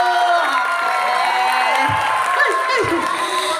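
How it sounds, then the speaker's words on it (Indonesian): An audience at a gender-equality outreach session cheers and shouts with scattered clapping, a lively mass of voices filling the room steadily for a few seconds. "Tepuk tangan yang lebih meriah dong."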